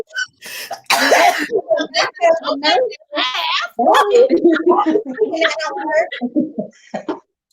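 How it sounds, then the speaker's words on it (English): A person coughs and clears their throat amid lively close speech, the cough rough and brief near the start before talking continues. "Ooh, me and this cough."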